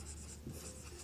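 Writing on a board during a grammar lesson: a faint, brief scratching and rubbing of strokes, alone and quiet with no talk.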